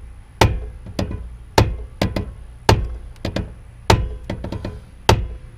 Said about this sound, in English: let me get my trusty hammer.